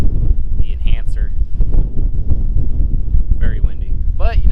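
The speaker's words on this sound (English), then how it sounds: "Very windy." Strong wind buffets the microphone beside a lake, a rough continuous rumble, with faint voices and brief whistling sounds over it.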